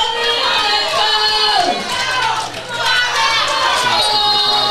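Crowd cheering and shouting at a powerlifting bench press competition, steady and loud throughout with excited voices and whoops layered over a commentator talking.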